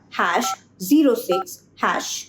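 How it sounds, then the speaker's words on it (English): A telephone keypad dials *#06#, giving short electronic DTMF tones in quick separate bursts with brief gaps between them. "You can check it by dialing *#06#."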